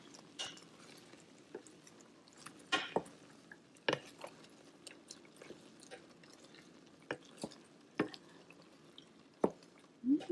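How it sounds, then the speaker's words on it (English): Cooking applesauce is stirred in a pot, with quiet, irregular wet squelches and soft clinks of the spoon against the pot, close by and unhurried, with no talking. "Give it a little stir."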